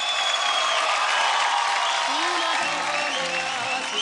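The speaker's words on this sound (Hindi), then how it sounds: "ताली बजाना तुम्हारे लिए।" A studio audience applauds on a televised singing show, dense and sustained clapping that stays loud throughout, with a voice briefly heard partway through.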